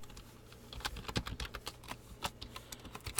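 Quick, irregular clicking of keys on a computer keyboard, a close but quiet burst of typing with short rhythmic clusters throughout.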